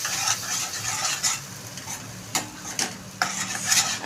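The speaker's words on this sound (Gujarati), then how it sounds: "બરાબર મિક્સ હલાવવાનું." Gram flour and onion mixture being stirred in hot oil in a pan while making kadhi, a steady close sizzle with scraping spoon strokes and a few sharper knocks against the pan.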